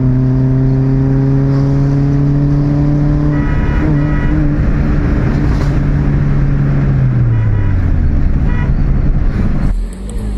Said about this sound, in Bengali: সব ব্যাক ফায়ার মারছে।